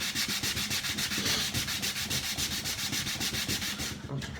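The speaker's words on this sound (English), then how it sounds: "This bit needs sanding." Wood on a shelf is sanded by hand in quick, even back-and-forth strokes, a rhythmic raspy scratching that stays close and steady throughout.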